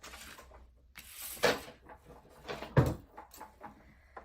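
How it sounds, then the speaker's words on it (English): A craft piece is cranked through a Sizzix die-cutting machine, giving a few close, uneven mechanical clunks and ratcheting rolls over about four seconds with no talk. "I'm going to run that through the machine"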